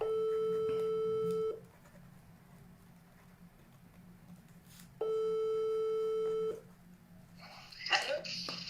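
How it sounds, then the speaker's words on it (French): Outgoing telephone ringback tone, two long steady beeps separated by a quiet gap, clear and close, as a call is placed to return a missed call. "Il y a quelqu'un qui a essayé de m'appeler que je vais rappeler."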